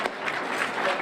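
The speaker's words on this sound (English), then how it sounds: "Can I give her a round of applause, please?" Brief audience applause at a mentor recruitment rally in Brockton, a short burst of scattered clapping from a crowd heard at moderate level.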